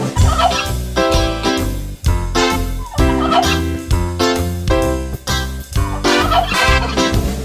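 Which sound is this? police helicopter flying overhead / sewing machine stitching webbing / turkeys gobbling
turkeys gobbling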